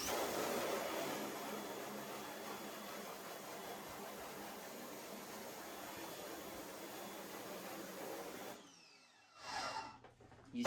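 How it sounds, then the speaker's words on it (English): A pressure washer blasts emulsion off a screen printing screen, a loud steady hissing spray that runs for about eight seconds, then cuts out, leaving a brief quieter burst of water. "I'm just going to go ahead and hit it with the pressure washer with a little bit of pressure"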